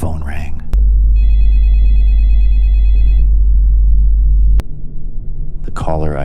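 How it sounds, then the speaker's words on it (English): A telephone bell rings loudly in a single sustained burst over a deep rumbling hum, cut off abruptly, with a narrator's voice just before and after. "my phone rang."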